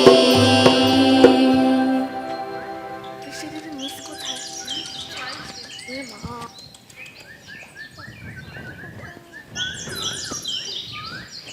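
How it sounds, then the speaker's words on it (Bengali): Several birds chirp and tweet in quick varied calls, fairly close, after an opening stretch of loud tonal background sound. "ওই দেখ, ওই পাখিগুলো কি বলছে"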